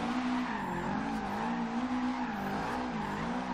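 A 1963 Volkswagen Beetle drifting in Forza Horizon 2 holds a steady wavering engine drone while its tires squeal continuously through the slide, loud and close with no talk.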